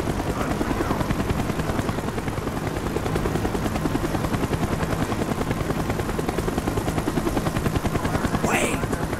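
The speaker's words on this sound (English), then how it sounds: "The chopper is coming around again." A helicopter circles during a Call of Duty: Black Ops mission, its steady rotor thump filling the scene loudly and continuously, with gunfire and a brief whistling sweep near the end.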